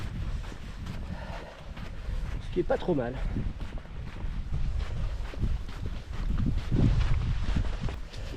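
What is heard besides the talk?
headwind blowing from the north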